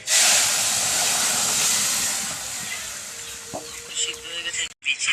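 Dal tempering with bay leaf, dry chilli and panch phoron, a loud bright hiss bursting at once and then settling into softer crackling sizzle, with a short sharp knock near the end.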